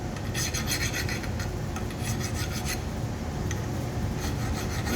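A metal workpiece is chamfered and deburred by hand with a file, giving close, loud rasping strokes in a quick, steady back-and-forth rhythm with no talking.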